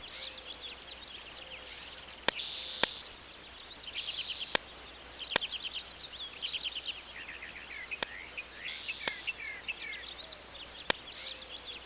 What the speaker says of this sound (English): A magpie is busy arranging its nest